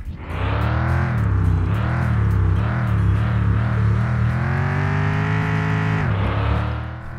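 Engine of an old car driven in the Mon Bazou video game, a steady loud droning hum with gentle rises and falls in pitch as it speeds along, then a sudden drop near the end, no talk.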